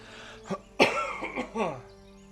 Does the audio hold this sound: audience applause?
no